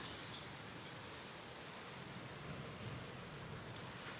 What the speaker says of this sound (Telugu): నిజంగా భారీగా పడుతుంది వాన